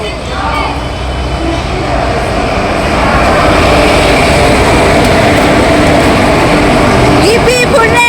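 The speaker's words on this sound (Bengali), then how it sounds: "ট্রেন চলে এসেছে," The Teesta Torsa Express pulls into a busy platform on the Sealdah to New Jalpaiguri route with a loud, steady rumble of wheels and carriages, rising as it nears, a brief squeal near the end, and people talking over it.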